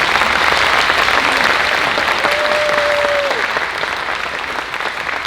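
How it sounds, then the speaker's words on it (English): Audience applause at a school band showcase, a steady full-room clapping that holds strong throughout and eases slightly toward the end, with a brief voice faintly audible over it. "One more round of applause for Mr. Gerritsen."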